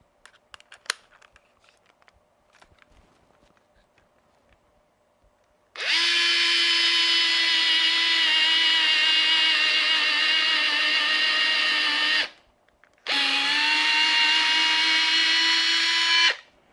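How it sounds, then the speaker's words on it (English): A Fanttik electric screwdriver drives a 1/8 drill bit into a hole with a loud, steady high whine in two bursts, about six seconds and then three seconds, separated by a short pause after a quiet start. "We're going to see how well it could drill a hole. So let's try the 1/8 drill bit."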